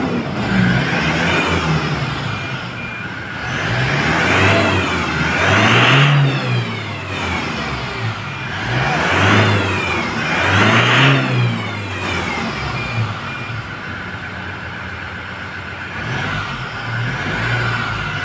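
A Toyota Innova Crysta's engine revs up and settles repeatedly, about four loud rising surges with idle between them, close and clear with no talking.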